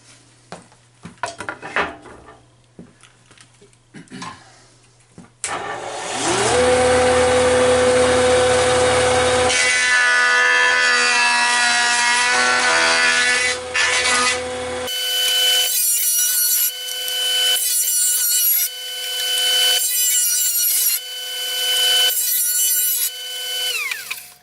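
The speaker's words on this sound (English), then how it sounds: "what a joiner does is it helps to take out all of those imperfections that are in there and makes it nice and flat" A wood jointer's cutterhead spins up and shaves a board flat, with a loud sustained whine, rough cutting bursts as the wood passes over, then pulsing repeated passes near the end; close and loud, no talking.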